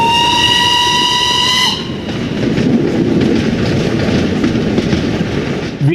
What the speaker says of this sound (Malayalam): ഇത് സ്വിറ്റ്സർലൻഡിലെ ഏറ്റവും ഉയർന്ന റെയിൽവേകളിൽ ഒന്നാണ്